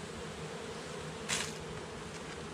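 Honeybees buzz inside an opened hive during an inspection, a soft steady hum close by, with one brief louder swell of buzzing partway through.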